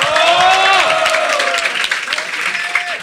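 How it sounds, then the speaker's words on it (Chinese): An audience applauds at a rap battle event. Loud crowd clapping and cheering wash through the whole span, with a raised voice calling out over the noise before it gradually thins. "再给春燕一个 respect 的掌声，好不好？"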